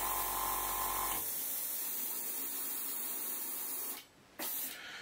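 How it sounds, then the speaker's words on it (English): Model airbrush being cleaned, sprayed in a steady close hiss for several seconds, briefly cut off near the end before starting again; no talking. "all I need to do now is just clean the airbrush."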